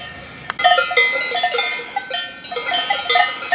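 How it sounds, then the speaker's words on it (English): Cowbells clang from a small herd of cows grazing behind trees on a Swiss mountain hiking trail near Zurich. The bells ring steadily and overlap in a bright, irregular jangle that stays fairly close and loud. "What you hear is a small herd of cows around to the left behind those trees."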